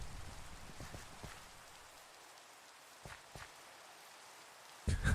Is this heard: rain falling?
yes